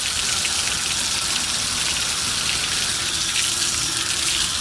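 Steady broadband rush of water running from a tap, constant and close, with no pauses or voices.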